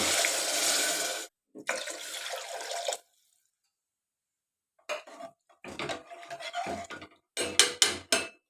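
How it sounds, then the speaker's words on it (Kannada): Water, about two glasses, is poured onto washed ration rice in a cooking pot, heard as loud splashing bursts separated by silent gaps, ending in several short sharp pours and clinks. "ಅದರಲ್ಲೇ ಈಗ 2 ಗ್ಲಾಸ್ ಅಷ್ಟು ನೀರು ಹಾಕ್ಕೊತಾ ಇದ್ದೀನಿ."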